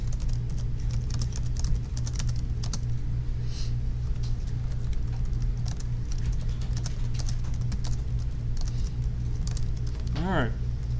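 Computer keyboard typing during a computer science lecture, soft scattered key clicks including tab presses under a steady room hum and faint speech, with a brief rising tone near the end.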